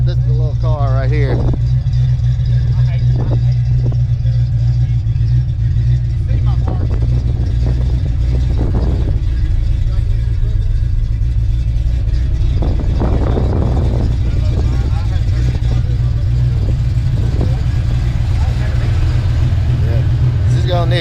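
A small stock car engine idles loudly and steadily after a cold start, a constant low rumble in windy outdoor cold with a voice talking over it at intervals.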